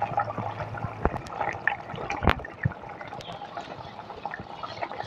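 Fried katla fish pieces dropped one by one into a boiling curry broth with potatoes, giving bubbling liquid and several distinct splashy plops against a steady simmer, close and moderately loud, no talking.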